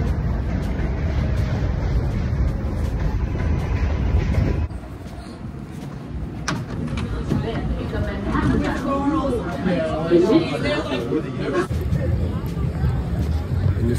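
A crowded New York subway train at 14th Street rumbles and clatters loudly throughout, its tone shifting midway, with people chattering nearby.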